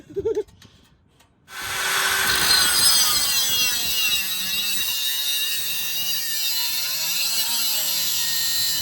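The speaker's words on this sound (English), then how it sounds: "we just cut off the catalytic converter and a resonator" A power saw cuts steadily through a car's exhaust to remove the catalytic converter and resonator, a loud, continuous grinding rasp that starts abruptly after a brief knock and runs close and unbroken to the end.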